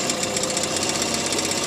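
Small 3 horsepower outboard motor on a fishing boat running steadily, a close, loud buzzing engine drone with a fast rattling pulse throughout.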